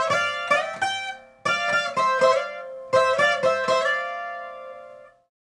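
Requinto guitar playing a riff at fast tempo, bright plucked notes in quick clusters separated by short pauses, ending on a ringing note.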